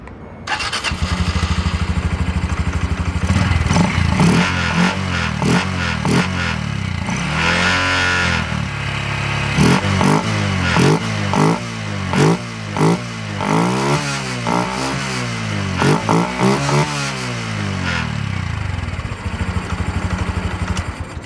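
Loud Honda Hunter Cub motorcycle with tuned open intake firing up and revving repeatedly, with a deep throaty exhaust note that rises and falls in sharp bursts, close by with no talking.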